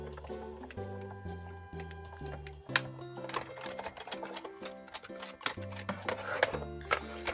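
A Big Shot die-cutting machine cranks cardstock inside an embossing folder between cutting plates, giving rhythmic clunking and creaking mechanical thuds with a steady ratcheting pulse, close and moderately loud.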